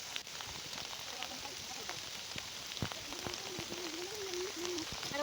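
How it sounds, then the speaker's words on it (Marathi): Monsoon rain falls over rice fields in Konkan during paddy planting, a faint, steady patter with a distant voice in the background. "फुल पाऊस आहे आज, दिवसभर पाऊस आहे"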